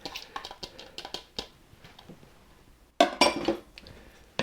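Cabbage being stirred into okonomiyaki batter in a bowl, with a string of close, light clinks and scrapes of utensil against the dish, then a louder burst of wet mixing toward the end.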